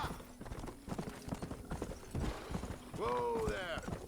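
Horse hooves clip-clop in the Red Dead video game, a quiet, uneven patter of steps with mechanical creaks, ending in a short whinny-like sound.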